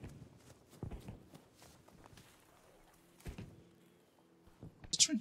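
Footsteps in Battlefield 5 multiplayer gameplay: scattered, soft thuds of a soldier moving over ground, with a sharper, louder burst near the end against a quiet game background.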